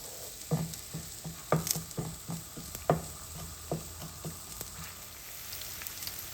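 Eggplant fries in a pan, a soft steady sizzle broken by a series of irregular light pops and spoon taps, close and fairly quiet.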